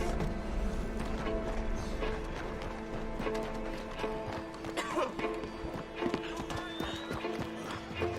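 Hooves clip-clop quickly at a gallop amid Red Dead Redemption 2 game sound effects and a busy mix, with a horse's whinny breaking through partway.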